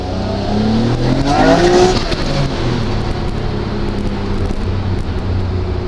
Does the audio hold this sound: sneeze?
no